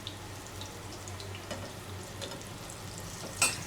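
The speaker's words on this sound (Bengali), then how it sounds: "লো হিটে ভাজা লাগবে, হালকা হিটে।" Tikia patties frying gently in oil over low heat, a steady soft sizzle running throughout with a few faint clinks and a brief louder scrape near the end.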